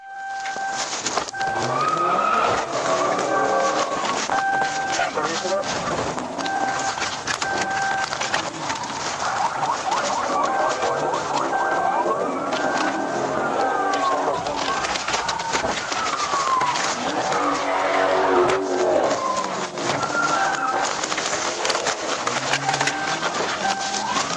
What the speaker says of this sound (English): The car sped recklessly and suddenly lost control at an intersection while attempting to turn onto another road.